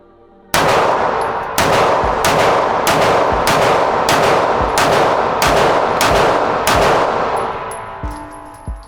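A Sig Sauer P365 pistol fires about ten rounds in a steady deliberate rhythm, each a loud close sharp crack with a ringing tail, and no talk.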